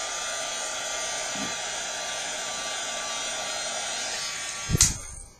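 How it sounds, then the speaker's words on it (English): A heat tool blows hot air to dry a layer of paint for homemade dew drops, producing a loud, steady whirring hiss that holds even for about five seconds, then cuts off with a brief clunk as it is switched off. "in this case I'm just going to dry it with my heat tool really quick"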